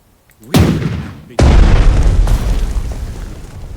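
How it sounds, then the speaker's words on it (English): Artillery fire from a warship in the strategy game Strategic Mind: The Pacific, two loud booming blasts about a second apart, each with a sharp onset and a long rumbling decay. "Then our ship shoots the artillery over there once."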